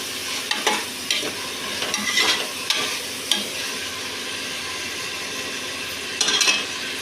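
Tomatoes and onions sizzle steadily in a pan while a spoon stirs them, with scraping strokes coming and going in bursts against a continuous frying hiss.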